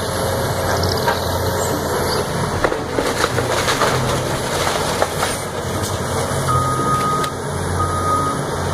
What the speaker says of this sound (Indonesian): Ekskavator beko.